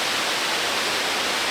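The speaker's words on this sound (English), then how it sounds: "We are the Shuraito Notaki waterfalls" The Shiraito waterfall near Mount Fuji in Japan roars as a dense, uniform wash of falling water, loud and unbroken over the short span.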